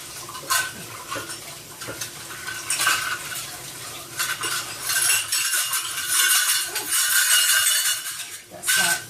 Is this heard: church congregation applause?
no